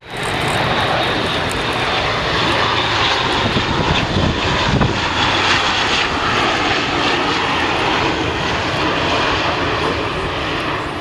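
Military aircraft fly past at the Cosford airshow, a loud, continuous engine roar filling the whole stretch without any talk over it.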